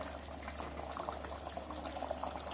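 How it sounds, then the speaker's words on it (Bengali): A fish curry gravy with potato and pointed gourd simmers at a steady boil in a pan, giving a continuous close bubbling hiss with soft popping bursts and no voices. "দেখতেই পাচ্ছেন ঝোলটা ভালো করে ফুটে উঠেছে, সবজিটাও হয়ে গেছে।"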